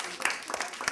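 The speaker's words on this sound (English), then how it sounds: "could we give our 3 stars of the class a round of applause" A classroom of children applauds their three star pupils in a Basildon, UK school: a brief burst of dense, close clapping with overlapping claps and a teacher's voice faintly underneath.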